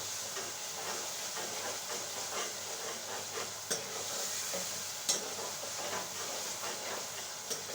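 Cumin seeds sizzle in hot oil in a home kitchen for dal, a steady bright crackling hiss with occasional stirring clicks, heard alone without talk.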